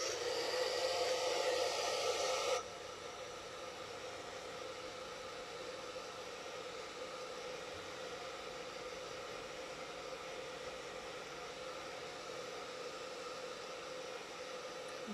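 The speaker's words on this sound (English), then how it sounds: "I'm going to blow dry it" A hair dryer blows on a watercolor painting, a steady airy whir that is louder for the first couple of seconds, then settles into a softer constant rush until the end.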